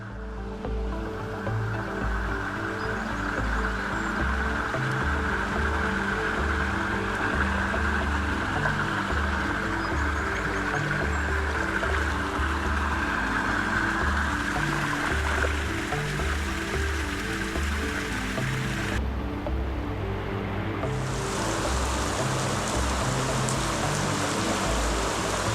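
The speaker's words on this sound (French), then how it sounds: "Nous arrivons à la cascade de Tuf vers 13 h." The Tuf waterfall roars in a steady, dense rush of falling water, loud and close, holding unbroken for the whole stretch.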